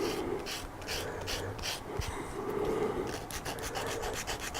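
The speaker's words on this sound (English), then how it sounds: "just start sanding it into the shape you want" Hand sanding of filler on a stick to shape it for a model aircraft wing fairing, a close, soft rhythmic scraping and rubbing with repeated short strokes.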